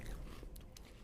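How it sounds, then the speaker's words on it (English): A milk-dipped cookie bitten and crunched very close to the microphone, giving a short, soft burst of crisp chewing against a steady low background. "Mic crunch. There's a mic crunch."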